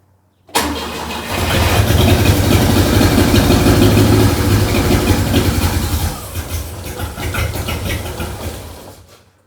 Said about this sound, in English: That was a rough engine.